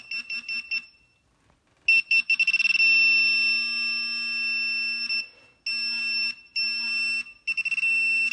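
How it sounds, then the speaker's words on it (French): A Minelab Profind 35 pinpointer metal detector beeps in bright, steady electronic tones, starting as short intermittent bursts and then holding longer sustained beeps broken by brief gaps, loud and close with no talk over it. "Vous voyez, ça bip par intermittence."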